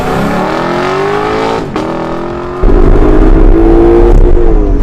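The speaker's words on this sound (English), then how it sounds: "this is the best noise to come off of a car" A 2023 Lexus LC500 engine revs loud and close, its tone rising then dropping briefly before surging into a heavier, sustained roar.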